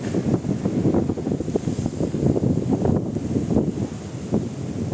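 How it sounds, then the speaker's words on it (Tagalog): Strong wind roars steadily against the microphone near San Francisco Bay, a dense low buffeting rumble that never lets up across the whole stretch. "Malakas yung hangin."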